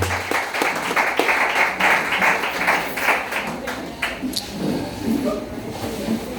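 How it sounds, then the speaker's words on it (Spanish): A crowd applauds with a dense patter of clapping that fades after a few seconds, followed by a murmur of voices in a large room. "Denle un fuerte aplauso al Señor."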